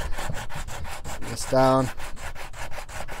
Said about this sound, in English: So I'm gonna take this piece of wood that I have here with some adhesive backed sandpaper.